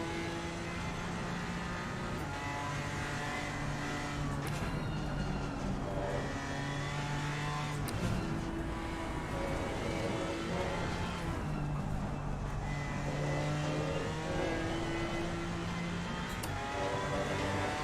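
A GT4 race car on cold tyres in a British GT racing game drones continuously, its engine note rising and falling through gear changes and revs for nearly eighteen seconds without talking.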